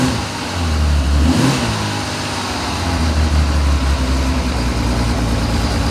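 A 1979 Honda CBX1000 motorcycle engine close by, a loud smooth idle broken by a brief rev near the start, then a steady humming drone that rises slightly again toward the end.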